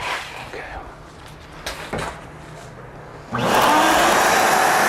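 A vacuum cleaner switches on partway through, a loud, steady whooshing roar that fills the rest of the clip after quieter talk and handling sounds.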